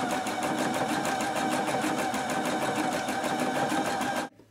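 A sewing machine stitches fabric in a fast, steady, even run of needle clatter, close and loud, then stops abruptly near the end.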